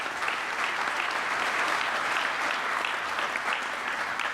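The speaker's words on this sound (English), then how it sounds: "give him another round of applause" A steady round of crowd applause rises from the audience at an innovation summit morning session, even and continuous throughout at moderate loudness, with no voices over it.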